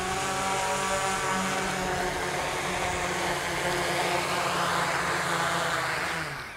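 A Cinestar 6 multirotor carrying a 10 lb payload comes in to land, its six motors giving a loud, steady propeller drone that holds even throughout and eases off slightly at the very end.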